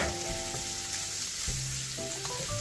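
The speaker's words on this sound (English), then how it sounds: "so we're just gonna cook this onion and mushroom" Small onion with a few pieces of mushroom frying steadily in a pan for a Hawaiian loco moco, a continuous close sizzle with occasional stirring scrapes and no talking.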